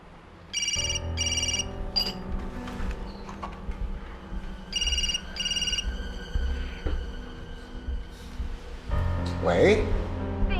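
A telephone rings with an electronic ringtone in two separate bursts, fairly clear over low background noise, with a voice speaking near the end.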